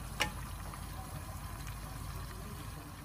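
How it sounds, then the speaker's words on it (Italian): Salted water boils in a pot for cooking pasta candele, giving a steady low bubbling rumble with a brief clink near the start. "L'acqua bolle, caliamo le nostre candele."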